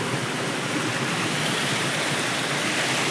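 A small river stream flows nearby in a steady, even rushing hiss of water with no pauses or voices.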